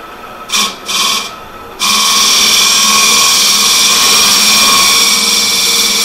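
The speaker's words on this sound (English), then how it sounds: "I guess I better turn my lathe on" A wood lathe set up for hollowing starts after a couple of short bursts and then spins at speed with a loud, steady whirring drone that stays close and constant to the end.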